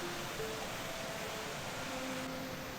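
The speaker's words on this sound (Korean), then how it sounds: "다리 위에서는 계곡의 물소리가 더욱 힘차게 들려왔어요" Mountain stream water rushing beneath a wooden arched footbridge in a rocky valley below a waterfall, a steady broadband wash of flowing water heard close and continuous with no talk.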